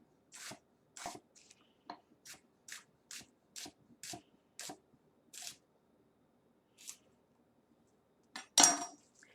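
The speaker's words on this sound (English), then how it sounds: "I'm just going to place the flat side down on my board and cut thin slices" A knife slicing an onion into thin slices on a cutting board, a quiet, close, fairly regular run of short crisp chops with a few pauses and one louder cut near the end.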